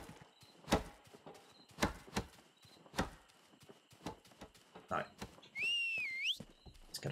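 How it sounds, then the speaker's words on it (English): Horse hooves clip-clop at a slow, steady walk in the video game Rustler, with evenly spaced moderate thuds. Near the end a brief rising and falling whistle-like tone sounds over them. "Horse."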